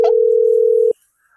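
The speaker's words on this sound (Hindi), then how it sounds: "अरे लागत फोन" A telephone calling tone sounds while a call connects. It is one loud, steady electronic beep lasting just under a second, then cuts off abruptly into near silence.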